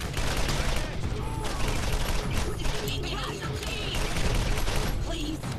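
Rapid bursts of automatic gunfire in the Borderlands shooter game, loud and dense with repeated shots and mechanical clatter running almost continuously.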